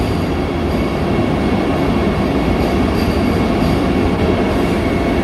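Vande Bharat Express train running on the rails, a loud continuous rumble with rattling wheels and a faint squeal, heard close from on board or trackside, with no talking.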